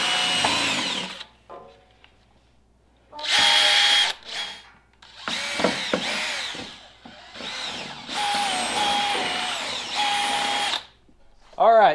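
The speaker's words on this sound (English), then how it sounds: "I'm going to see if my drill bit's long enough to poke this hole from the bottom" A power drill whines in several bursts, boring a hole while installing a cab on a John Deere 2038R tractor, starting and stopping, with a person talking in the pauses between runs.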